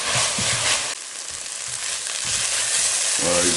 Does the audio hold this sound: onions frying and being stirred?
yes